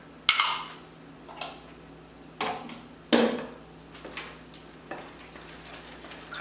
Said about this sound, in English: Constantly mixing.